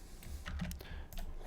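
Keys pressed on a computer keyboard while working in 3D modelling software, a short burst of close, soft clicks spread across about a second and a half, alone without speech.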